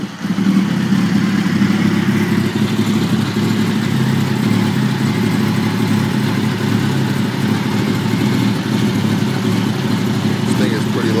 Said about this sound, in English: Give you guys a sound clip of the exhaust.